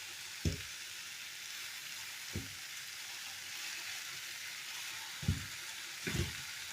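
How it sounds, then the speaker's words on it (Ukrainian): Pork ribs sizzle steadily in a hot, uncovered pan, a soft continuous crackle broken by a few sharp pops and spits. "в мене м'ясо смажиться, смажиться, підсмажиться"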